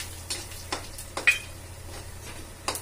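Spices frying in a pan, stirred with a ladle: a faint sizzle under several sharp scraping clicks of the ladle against the pan, spaced irregularly.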